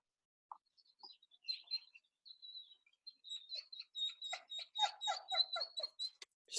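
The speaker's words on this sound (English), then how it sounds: "we've got a dog crying" A dog whimpering and crying in high thin squeaks, sparse at first and then coming in a quick steady run of whines, fairly faint.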